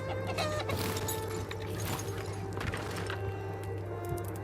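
An attacking chicken clucks busily in the video game RuneScape: Dragonwilds, its rapid clucks and flaps fairly close over a constant low game hum, with no speech.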